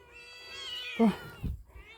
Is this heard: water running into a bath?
no